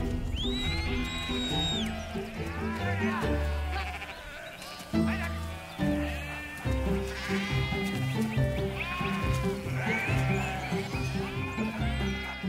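Loud, close sheep bleating over and over, several animals overlapping in wavering calls that last throughout.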